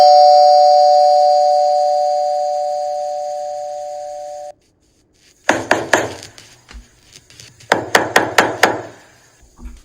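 A doorbell rings with a sustained electronic chime tone that fades over several seconds, then after a short silence come two loud bursts of sharp, rapid knocks on a door.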